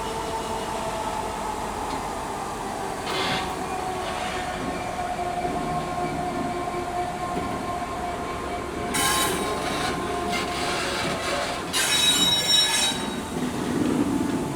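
A Class 66 diesel locomotive in old EWS livery rumbles past hauling a special freight train at a heritage railway centre, a loud, steady roll of wagons with brief bursts of wheel squeal and clatter near the end.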